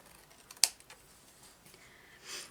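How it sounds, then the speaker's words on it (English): Scissors snipping through card while making a Christmas card: one sharp, close snip, then faint, quiet cutting rustles. No talk. "I'm going to cut along that line this way"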